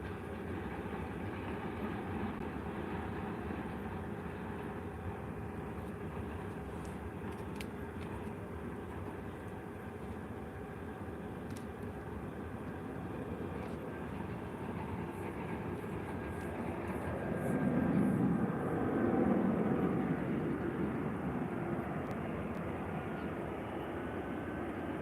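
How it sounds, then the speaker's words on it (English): An EasyJet airplane from Paris Orly arriving at Faro airport, a steady distant roar of jet engines that swells slightly toward the end, with no talk. "So here comes the EasyJet from Paris Orly."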